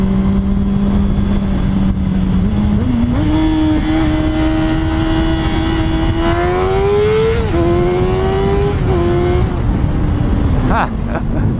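A 2005 Honda CBR600RR motorcycle engine pulls steadily as the clutch engages, its pitch climbing through the gears, loud and close throughout, with brief dips between rising runs and wind rush underneath.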